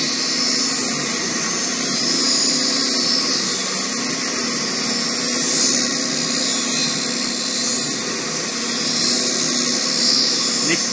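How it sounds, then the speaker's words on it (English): A lens edging machine grinds a bevel onto an eyeglass lens in an eyewear glazing workshop, a loud, steady whirring and hissing drone with a high grinding edge that holds unbroken throughout. "beveling the lens to make sure that the lens can stay within the frame and does not pop out"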